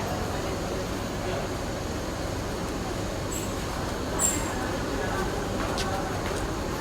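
A commuter train on the Cikarang–Bogor line rolls past with a steady rumbling clatter and brief high wheel squeals, while someone talks over it.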